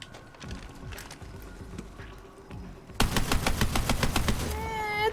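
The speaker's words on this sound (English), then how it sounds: "Look at that fire rate" A machine gun firing rapidly in the video game Borderlands 3, starting abruptly after quieter footsteps and continuing as a dense, loud stream of shots close by, ending with rising whirring tones.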